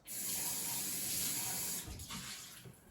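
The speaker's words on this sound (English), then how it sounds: "I'm going to just rinse it out." Tap water runs steadily, splashing into a vessel for about two seconds before the flow breaks up into gurgling rinses.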